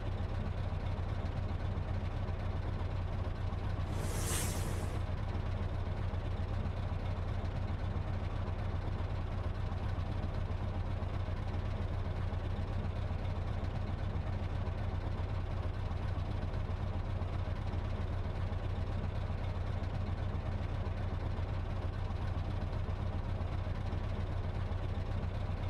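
A V8 truck engine idles in Euro Truck Simulator 2, a steady low rumble holding evenly throughout with one brief hiss near the start and no talking.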